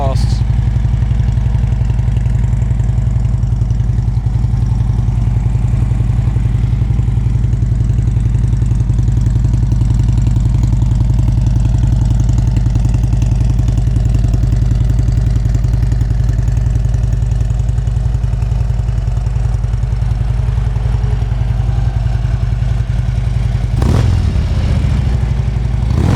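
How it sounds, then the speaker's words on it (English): Harley-Davidson Road King FLHR with Vance & Hines exhausts idles nearby in a steady, deep, loping rumble that holds throughout, with a brief blip near the end. "Real good deep rumble to it with those Vance & Hines exhausts."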